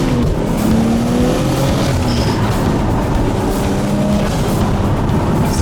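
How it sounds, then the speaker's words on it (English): Nissan RB25 turbo engine with a massive exhaust revs loud and close, a steady rasping drone with rising and falling tones that runs the whole time, no talking over it. "the RB25 sound as well, the massive exhaust"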